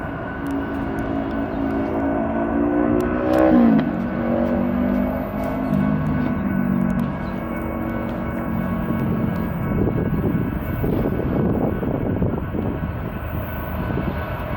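A BNSF intermodal freight train led by a GE GEVO locomotive rumbles steadily at a Flagstaff crossing, with sustained tonal horn-like bands early on and a broad, rising rail roar building through the later seconds.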